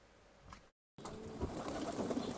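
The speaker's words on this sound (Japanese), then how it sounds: "鳩が飛び立たないですね" Pigeons coo softly at an opened loft on a warm morning, faint and close, broken by a brief silence before louder rustling and bird sounds resume.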